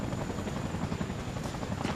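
A Chinook military helicopter flies close and loud in Afghanistan, its rotors making a dense, continuous chopping roar that holds steady for the whole two seconds with no talk over it.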